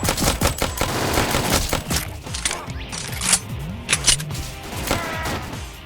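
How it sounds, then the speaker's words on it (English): Rapid pistol gunshots in the Roblox zombie shooter The Undead Coming after its update, a dense volley of sharp cracks firing in quick succession over game background music. "First up, we have the pistol."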